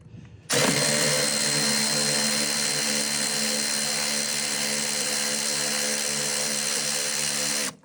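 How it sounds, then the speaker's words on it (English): Milwaukee M12 cordless ratchet with a deep-well 11 mm socket on a short extension loosening a bolt on a 2005 Arctic Cat ATV, a loud, continuous motor whir running close and steady for about seven seconds before cutting off. "On our M12 ratchet to get that loose."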